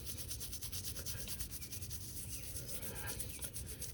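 Faint, steady scrubbing and rubbing as ZeroSR front brake caliper pistons are cleaned, a soft continuous brushing texture with no talk over it.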